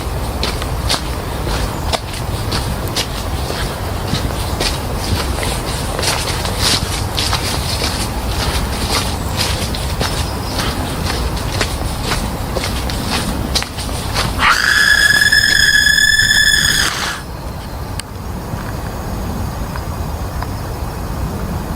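A single shrill, piercing scream rings out for about two seconds in a dark forest, rising above a constant rustling ambient wash before cutting off abruptly.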